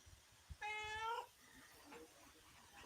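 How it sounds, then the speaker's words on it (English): A cat gives a single clear, drawn-out meow lasting about half a second, fairly close, against quiet background noise from a western film. "Aw, kitty."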